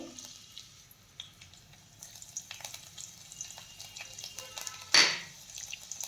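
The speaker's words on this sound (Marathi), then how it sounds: "तेल गरम झालं की त्यामध्ये बारीक चिरलेला लसूण घालून घ्यायचा आहे" Finely chopped garlic goes into hot oil in a kadai, giving a soft, continuous sizzle with faint crackles and a brief louder splash partway through, heard at close range without any talking.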